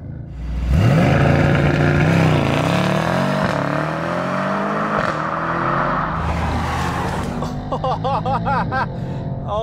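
A Mercedes-AMG E63 S sedan engine fires up and surges into a hard, roaring launch-control acceleration that stays loud for several seconds, then shifts gears with crackling pops at the end.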